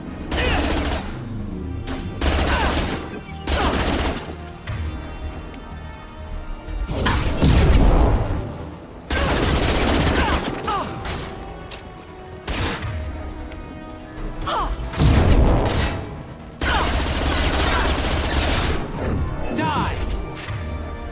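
Bursts of sci-fi gunfire and heavy impacts in the video game Mass Effect 2, loud and near, repeating in long rattling volleys with short gaps, with combat voices shouting in between.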